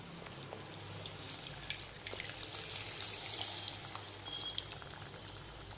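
Dissolved tamarind water is poured into gooseberry thokku cooking in a pan, a soft, steady trickling pour lasting several seconds, close and quiet.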